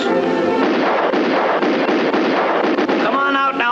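Rapid, continuous gunfire from the Grand Theft Auto video game, a loud dense barrage of shots running almost without pause for several seconds, with faint game sounds showing through at the end.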